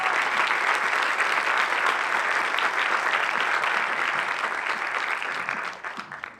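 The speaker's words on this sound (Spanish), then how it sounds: "Un aplauso para él." Audience at a casting talk bursting into sustained applause, a thick steady clatter of many hands that holds strong for several seconds before tapering off into a few scattered claps at the end.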